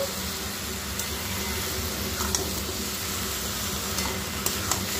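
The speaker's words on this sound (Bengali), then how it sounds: "এখানে বাঁধাকপিটা তো আমি কষতে থাকছি।" Cabbage being stir-fried with pre-fried carrot, potato and beans, a steady close sizzle with faint scraping of a spatula in the pan throughout.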